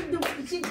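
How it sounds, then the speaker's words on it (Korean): A congregation at a church worship service claps briefly to welcome a pastor to the front, a couple of quick bursts of hand clapping mixed with a voice talking nearby. "박수로 맞이해 주세요."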